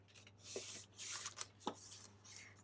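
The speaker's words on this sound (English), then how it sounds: "So if you take your sheet and fold it in half," A sheet of paper is folded in half, giving soft crisp rustles and a few quick creasing swipes, quiet and close with no talk.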